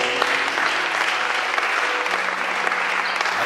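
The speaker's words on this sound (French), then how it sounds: "On peut acclamer la parole du Seigneur" A church congregation applauding the word of the Lord, steady dense clapping from many hands that fills the room evenly and holds at a constant level throughout.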